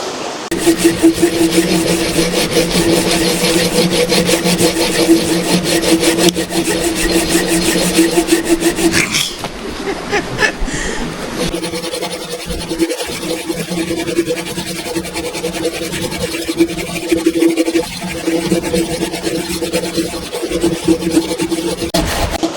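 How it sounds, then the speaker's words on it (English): A small hand saw rasps steadily through logs in quick, rhythmic back-and-forth strokes, close up, with a short break partway through. "we're having to cut them with these wee saws for now"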